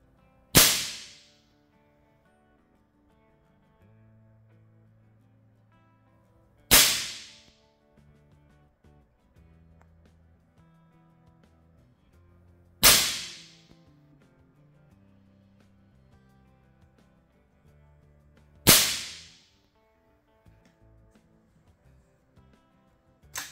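Four sharp, loud cracks from an airsoft replica gun, spaced about six seconds apart, each a sudden snap that fades quickly, with quiet handling noises in between.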